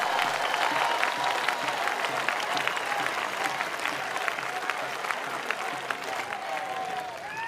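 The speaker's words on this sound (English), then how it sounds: "So clap 15 times for the Gramotsav and the Isha Foundation." A large audience at the Isha Gramotsav 2023 village festival finale breaks into sustained, dense applause, loud and steady throughout with many hands clapping together.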